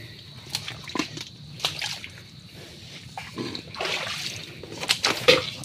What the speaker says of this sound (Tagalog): Panay kasi ulan.